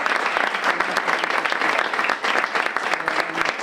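An audience at a children's literature event applauds loudly and continuously, thick clapping with slight swells in intensity.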